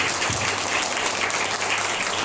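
A church audience claps loudly to welcome a pastor, a dense continuous burst of applause from a crowd that fills the whole moment.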